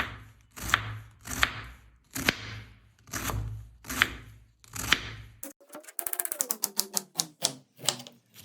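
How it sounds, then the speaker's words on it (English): A knife cuts fresh cabbage into thin strips on a board, with six slow, evenly spaced crunchy chops followed by a quicker run of sharp, rhythmic slicing taps, close and clear with no talking. "Slice the cabbage into thin strips and place it in a bowl."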